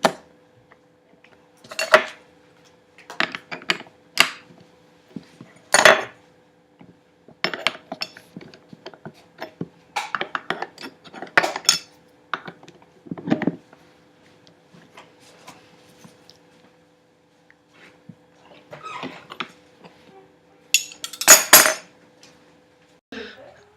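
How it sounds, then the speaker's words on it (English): Two metal wrenches clinking and ratcheting against each other while tightening the collet of a palm router, close up, with irregular sharp metallic chinks and scrapes spread across a long stretch and a faint steady hum beneath. "We're going to use 2 wrenches to tighten it, and we want it very tight."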